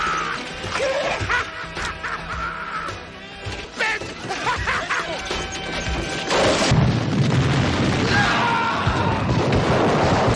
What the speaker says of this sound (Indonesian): Ledakan besar yang terjadi berhasil mengalihkan perhatian El Diablo dan kelompoknya